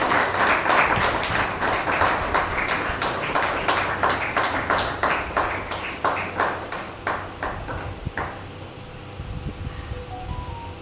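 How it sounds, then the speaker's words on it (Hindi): Audience clapping at an honour ceremony held during the Dashlakshan festival in Vidisha, starting as dense applause and thinning into scattered, separate claps that fade toward the end. "तालियां बजती रहनी चाहिए।"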